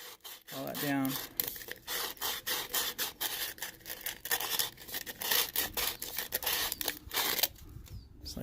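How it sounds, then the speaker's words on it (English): Sandpaper rubbing over a homemade alcohol stove, a close, rapid back-and-forth rasping that runs steadily with brief pauses. "Now you can take your sandpaper and sand all"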